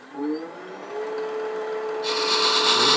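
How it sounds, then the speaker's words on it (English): Thread chaser chamfering the end of a spinning wooden rook chess piece box on a lathe, a steady scraping hiss that brightens and grows louder partway through, close and continuous with no talk. "I'm going to switch to the male thread chaser, and I'm going to chamfer this end right there"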